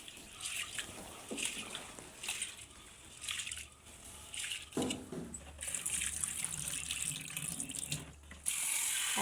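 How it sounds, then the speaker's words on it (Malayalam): Rice being washed under running tap water in a home kitchen, water splashing and trickling in bursts with swishing and pauses, fairly close and quiet. "അരിക്ക് വെള്ളം അടുപ്പത്ത് വെച്ച് അരി കഴുകി"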